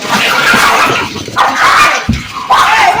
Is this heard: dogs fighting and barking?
yes